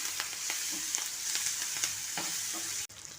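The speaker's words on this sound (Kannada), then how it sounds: "ಟೊಮೆಟೊ ಎಲ್ಲ ಸಾಫ್ಟ್ ಆಗೋವರೆಗೂ ಹುರಿತಾ ಇರಬೇಕು" Onion, turmeric and tomato fry in a pan with a steady sizzle while a spoon scrapes and stirs, making repeated soft clinks and scrapes.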